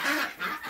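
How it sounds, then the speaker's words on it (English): Ducks calling in a duck pen, a short burst of loud, nasal honking quacks in two or three close pulses with no talk. "And here's the ducks."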